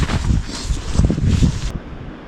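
Strong 50-60 mph blizzard winds on top of Mount Si buffet the microphone in loud low rumbling gusts, dropping off toward the end, with no one speaking.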